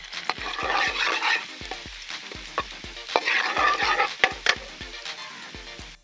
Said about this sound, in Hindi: सबसे पहले कुकिंग ऑयल चढ़ा लिया और इसके अंदर लहसुन जो बारीक चॉप किया हुआ है वो डाल देते हैं।